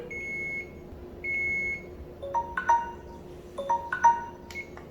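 A Hairmax hair-growth device's timer beeps in two separate bursts of short tonal electronic beeps, fairly close and clear over a faint steady hum, with no talking.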